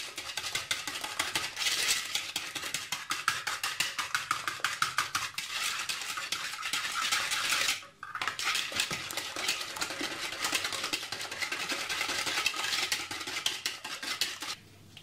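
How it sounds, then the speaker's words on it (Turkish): Rapid, steady whisking of sugar and eggs in a bowl for waffle batter, a quick rhythmic clatter of metal on the bowl that runs continuously with one brief pause midway, close and without speech. "şekerlerimizi, yumurtalarımızı karıştıralım."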